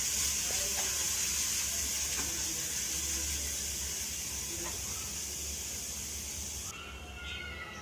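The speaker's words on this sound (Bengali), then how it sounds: "আমি এখন এই তেলের মধ্যেই কুচি করে রাখা পেঁয়াজ, রসুন আর কাঁচামরিচ কুচিও দিয়ে দিব।" Chopped onion, garlic and green chillies frying in oil, a steady loud hiss of sizzling that runs continuously and eases slightly near the end, with faint background noises.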